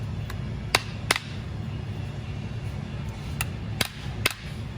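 A rubber hammer taps a new shock collar into place over its clips while installing a FOX TRD Pro lift kit on a 2019-2024 fifth-generation 4Runner: about five sharp, irregular knocks over a steady background hum, with no talk.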